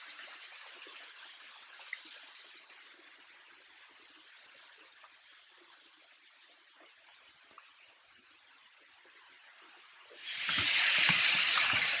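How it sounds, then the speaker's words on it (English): A waterfall in Shakespear Regional Park, north of Auckland, New Zealand, gives off a soft, continuous rushing hiss from a distance. Near the end it swells into a much louder, close roar of falling water. "So that's the waterfall."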